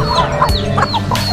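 Backyard farm chickens cluck in a steady series of calls, close and fairly loud, with ducks and turkeys kept among the flock and no talk over them.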